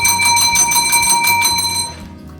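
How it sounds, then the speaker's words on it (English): A knocker box signal bell in the Bendigo gold mine rings in a quick series of bright metallic strikes, close and loud, then fades into a short ringing decay. "this is called the knocker box. Now the knocker box sounds like this."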